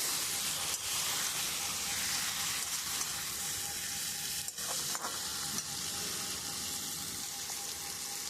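Eggplant pieces added to a Bombay duck fish curry frying in a pan, producing a steady, close, bright sizzle with a few soft stirring scrapes and bumps throughout.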